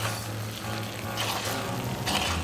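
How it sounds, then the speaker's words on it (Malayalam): Prawns are stirred into onion masala in a hot pan, giving a brief, close, steady hiss of sizzling with gentle scraping swells. "എന്നിട്ട് നന്നായി മിക്സ് ചെയ്ത് കൊടുക്കുക."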